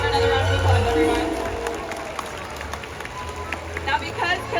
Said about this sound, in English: Let's give her another round of applause, everyone.